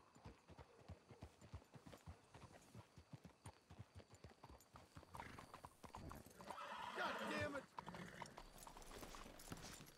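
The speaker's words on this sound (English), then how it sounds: "Let's hitch your horses up ahead." Horse hooves clip-clop in a steady rhythm in Red Dead Redemption 2, then a horse whinnies loudly, with faint voices and ambient noise underneath.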